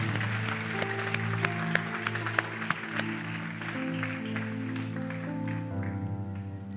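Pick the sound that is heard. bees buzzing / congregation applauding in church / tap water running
congregation applauding in church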